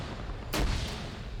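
An anti-tank grenade explodes in a military video game, a single sharp boom with a rumbling tail over steady background noise, fairly distant and muffled.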